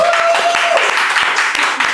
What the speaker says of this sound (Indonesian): Kita sambut dengan tepuk tangan yang meriah, Kang Ade Suyitno